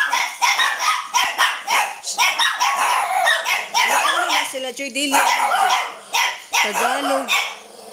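Small chihuahuas yap and bark in quick repeated bursts close by, mixed with a woman chatting over them almost throughout.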